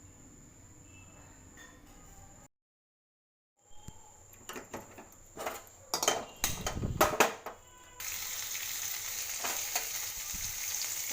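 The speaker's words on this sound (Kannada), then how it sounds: "ಎಣ್ಣೆ ಹಸಿಕಾಯಿ ಮತ್ತು ಟೊಮೊಟೊ ಹಾಕಿ ಬಿಸಿ ಮಾಡ್ತಾರೆ" Green chillies and tomato hit hot oil: a brief silence, then clattering pan knocks and bursts of stirring, before a loud, continuous close sizzle takes over.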